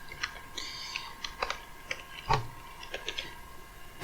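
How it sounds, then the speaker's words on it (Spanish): Typewriter sound effect from the Dactylo program on Linux: irregular crisp key clacks, close and distinct, with one heavier strike near the middle, alone without talk. "ahora pueden escuchar el sonido de una máquina de escribir."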